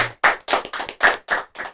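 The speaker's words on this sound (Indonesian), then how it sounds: "Tepuk tangan dong." A small audience claps at a school podcast competition: seven crisp, evenly spaced claps, close and loud, with nothing else behind them.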